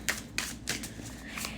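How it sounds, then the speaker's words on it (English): Tarot cards are shuffled by hand in quick, papery bursts, several riffling flutters in a row, close and moderately loud, with faint room noise between them. "I'm trying to shuffle your cards"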